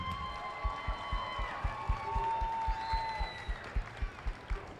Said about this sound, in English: Another round of applause to our Grayson County High School cheerleaders.